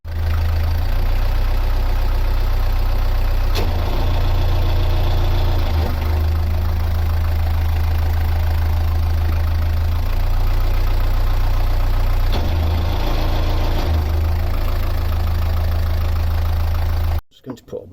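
Close, loud narrowboat diesel engine ticking over with a steady low throb, its rhythm shifting slightly as it revs at moments, running continuously until it cuts off abruptly near the end.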